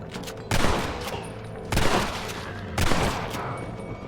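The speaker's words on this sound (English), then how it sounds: "I'm shooting someone in the crotch instead of the head" Three loud gunshot blasts in the Red Dead Redemption video game, spaced about a second apart, each a sharp crack with a ringing tail over low background game ambience.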